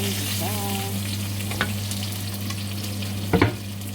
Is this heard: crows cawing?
no